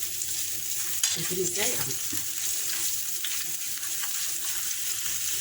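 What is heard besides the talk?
garlic sizzling as it fries in the pan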